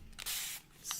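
A spray bottle mists water onto an Inktense painting in two quick, close hissing bursts, a longer spray followed by a short one, with no talk over it.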